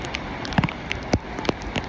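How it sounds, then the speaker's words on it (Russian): Cold rain at the Anapa seaside with very large drops, falling as scattered close taps and patters on a covering over an open space, soft and irregular, with no talk. "Дождик все-таки пошел. Такой хороший дождь."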